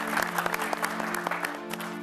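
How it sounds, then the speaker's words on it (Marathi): Audience applause for a winning couple at a best-couple contest on a television set, a soft, steady patter of clapping hands with a few sharper claps standing out, fairly quiet and without talk. "आणि एकदा जोरदार टाळ्या होऊन जाऊ दे या जोडीसाठी"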